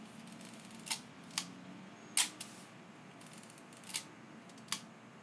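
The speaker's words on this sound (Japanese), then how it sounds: "シャッターを切りつつ、カウンターが1になるまで巻き上げます。" Voigtlander Bessa R2A film camera being readied: several sharp mechanical clicks of the shutter release and film advance lever, spaced irregularly and close up, with no talk.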